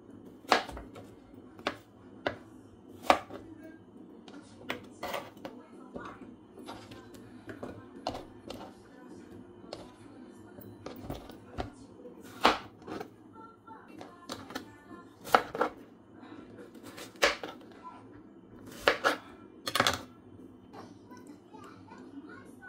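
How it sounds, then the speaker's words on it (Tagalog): Knife slicing vegetables and garlic for pansit bihon on a cutting board: scattered sharp chopping taps at an irregular pace, fairly faint, over a low room hum with a person talking. "Now, bawang naman yung ating slice."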